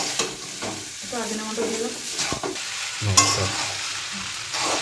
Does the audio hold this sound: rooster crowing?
no